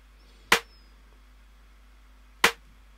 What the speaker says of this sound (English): I then layered a snare and a rim,